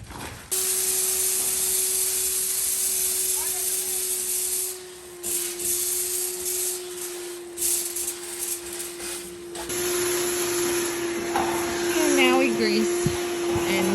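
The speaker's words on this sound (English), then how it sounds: "We're gonna vacuum the rest out." A vacuum cleaner sucks leftover beans out of a container, running as a loud, steady, close whine with a constant motor hum for the whole stretch, its tone shifting slightly partway through.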